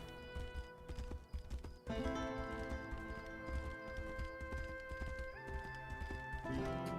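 Horse hooves clip-clop with a neigh in the fantasy game Tainted Grail: Fall of Avalon, heard over steady game music, with no talk.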